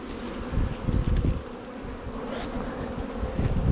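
Honey bees buzzing loudly and continuously as they are shaken off a hive frame into a box during artificial swarming, a dense close-up drone with a few sharper swells and thumps.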